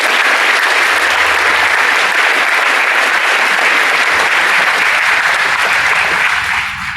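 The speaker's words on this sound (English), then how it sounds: "I think we should all give a round of applause to the museum staff for the great job they're doing" An audience at an F-104 Starfighter dedication at the Palm Springs Air Museum applauds, a loud, dense and continuous clapping that holds steady for about seven seconds before easing slightly at the end.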